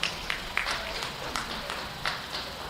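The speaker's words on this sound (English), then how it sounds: "Let's give Liam Larson a nice round of applause" An audience at a Jackson County Fair jackpot beef show gives a modest round of applause for a contestant, a light, scattered patter of claps with a few sharper hits.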